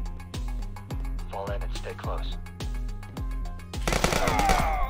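Gunfire in the video game Police Stories, a loud burst of rapid shots near the end that follows a pulsing music beat, with voices also present.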